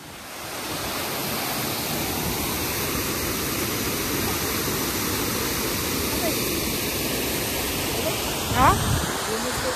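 A loud, constant roar of rushing water at the Terna dam near Dhoki, Dharashiv, fills the scene, with a brief voice rising over it near the end.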